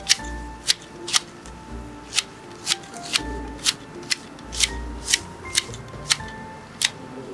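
Pruning shears snip through a blackberry bramble in a garden, a run of about a dozen crisp, close cuts in a fairly even rhythm with no talking.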